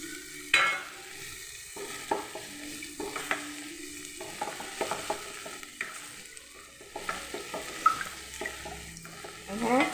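Egg poured into a hot pan beside lightly wilted drumstick leaves (moringa egg thoran), with a soft steady sizzle under repeated scraping and stirring knocks from a spatula, close and moderately quiet throughout.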